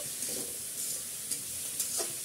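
Cut carrots dropped into a pan for restaurant-style fried rice, giving a soft sizzle with a few light stirring scrapes and clinks over about two seconds, fairly quiet and with no voices.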